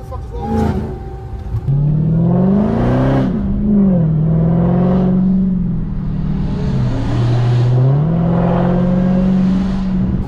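A ported supercharger on a second-generation Demon-swapped car revs in long rising and falling pulls, its whine sitting prominently over the engine, loud and close, with people talking alongside.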